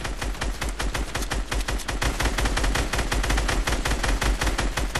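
Rapid automatic gunfire in a video game, a fast continuous rattle of shots lasting several seconds at steady loudness, with no talk over it.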